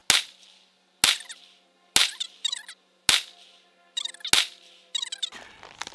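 A revolver firing 158 grain lead round nose bullets over a chronograph lets off six sharp, loud reports at roughly one-second intervals. Each crack is followed by a brief ringing echo, with no talk.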